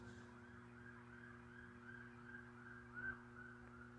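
A distant emergency vehicle siren wails faintly in a slow rising and falling pattern, heard under a steady low machine hum at a site with a mini excavator.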